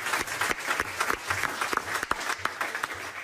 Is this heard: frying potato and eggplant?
no